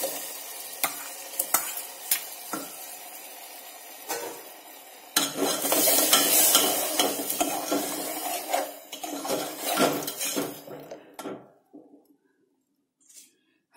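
A spoon stirs and scrapes masala with crushed tomatoes around a pan, making repeated clattering scrapes over a soft sizzle that builds in the middle, then thins out into near silence at the end.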